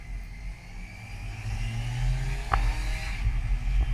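Kawasaki Versys 1000 motorcycle engine pulling hard under throttle, a steady mid-pitched drone rising in pitch with a brief sharp click partway through, close and loud, with wind rush over it and no talking.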